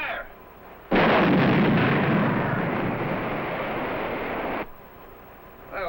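A heavy gun fires on a naval firing range, a sudden loud blast that rolls into a sustained roar for several seconds before cutting off, with no voices over it.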